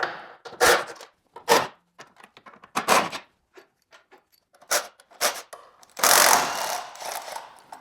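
Mechanical clicks and ratcheting bursts as 15 mm engine mount bolts are zipped out on a GM 1.4L turbo engine, coming in short irregular spurts with pauses and a longer buzzy run near the end.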